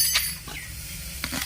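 Onions sautéing in a pan for a village-style crab curry, a low sizzle with light clinks and stirring scrapes of a utensil against the pan, close and brief.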